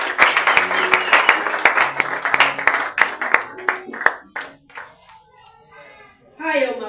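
A church congregation claps for Jesus, with loud, dense rhythmic applause that tapers into a few scattered claps before a voice speaks.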